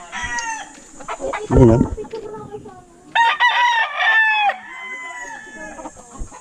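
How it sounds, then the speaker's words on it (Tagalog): Chickens in a farm coop in Mindoro: a rooster crows loudly and close amid scattered clucks and calls, with a brief spoken voice near the start. "Yan yung mga manok. Pasok tayo dito sa Manukan."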